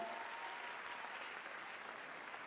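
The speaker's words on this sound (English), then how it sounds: "Let's give them a round of applause for the hard work that they do." Steady applause from an audience, a dense wash of clapping heard from some distance, with no pauses.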